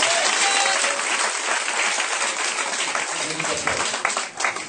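Loud, continuous applause from a church congregation acclaiming Jesus during a night deliverance and prayer vigil, a dense steady wash of clapping and cheering that fills the whole moment.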